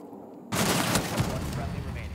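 Gunfire in the tactical shooter Rainbow Six Siege erupts suddenly after a quiet moment, a rapid burst of close, sharp shots with rattling echoes continuing for under two seconds.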